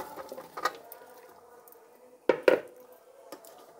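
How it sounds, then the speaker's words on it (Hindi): Chunks of cauliflower and potato tipped into a pot of cooked meat, giving soft clatters and a couple of sharper knocks of vegetables against the metal pot, fairly quiet with gaps between. "अब मैं इसमें गोभी और आलू डाल रही हूँ।"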